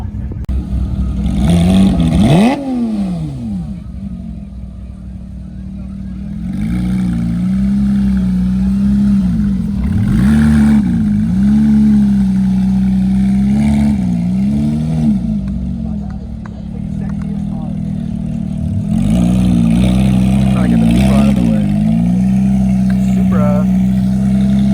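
An LS-swapped Porsche 911 at a car meet revs repeatedly, its V8 note rising and falling in several loud bursts over a steady rumbling idle, with crowd chatter in the background.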